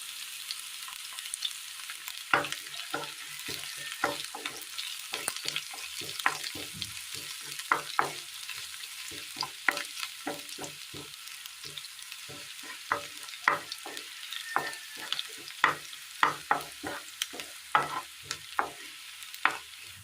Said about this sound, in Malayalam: ചൂടായ എണ്ണയിലേക്ക് കടുകിട്ട് കൊടുക്കാം ചെറിയുള്ളി രണ്ട് ഗ്രാമ്പൂ